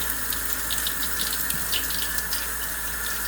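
Running tap water pours steadily over a vegetable being washed at a kitchen sink, a continuous close splashing hiss with small irregular splatters as the produce turns under the stream.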